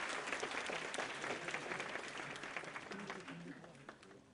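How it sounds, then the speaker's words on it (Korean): After a CEO lecture for university students, the audience gives a round of applause, moderate crowd clapping that starts full and gradually fades while a voice speaks over it. "이동현 대표님께 다시 한번 큰 박수 부탁드립니다"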